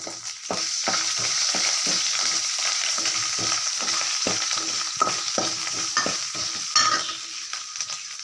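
Ginger garlic paste sizzles in a pan with cinnamon and cloves, a steady hiss broken by the rhythmic scrape and tap of a spoon stirring, close and clear without speech.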